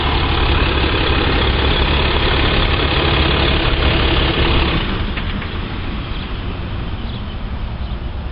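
A 2014 RAM 2500 Heavy Duty crew cab with a 6.7L Cummins turbo diesel idles just after push-button start-up, a loud, steady, close engine rumble that eases slightly in volume partway through.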